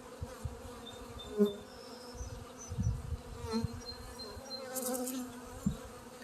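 Honey bees buzzing around an open hive during a queen release, a continuous low, faint hum with scattered soft knocks and handling sounds nearby.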